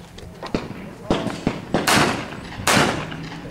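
Sharp 28 gauge shotgun reports ring out at a skeet shooting event, about seven shots spaced irregularly over a few seconds, loud and near, with people talking in the background.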